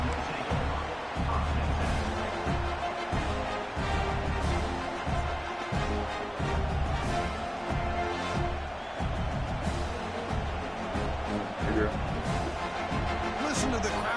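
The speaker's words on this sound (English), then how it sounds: "Listen to the crowd energy here in the early going" A college football stadium crowd keeps up a dense, steady roar through the early going, with a commentator talking over it throughout.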